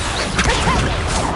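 A summoning spell cast in the Hogwarts Legacy video game, a short airy whoosh with a faint whip-like swish over a steady background bed.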